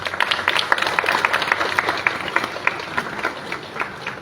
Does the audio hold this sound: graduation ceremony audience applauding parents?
yes